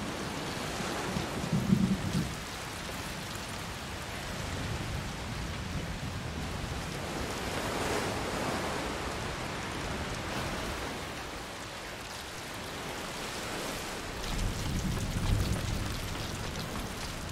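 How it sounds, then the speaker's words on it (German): Heavy rain in the video game A Plague Tale: Requiem pours steadily throughout, a dense hiss with a couple of low rumbling swells, no voices. "Es regnet ganz doll."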